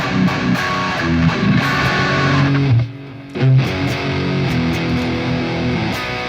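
Electric guitar played through a phaser effect, a loud sustained chordal tone with sweeping, swirling character that drops out briefly midway before resuming, with no talking.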